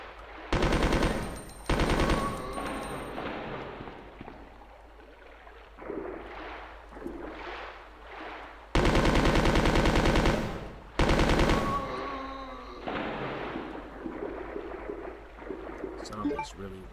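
Bursts of rapid gunfire from the Resident Evil 2 video game, with several loud volleys separated by quieter stretches of game sound and effects.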